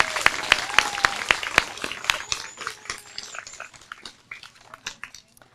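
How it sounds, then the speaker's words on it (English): Applause for a fourth-grade class at an elementary school graduation: sharp claps sound in an irregular patter, some close and loud, thinning and softening over the final seconds, with a dog's bark or whimper mixed in. "Can we please give Mrs. Childers' class a round of applause?"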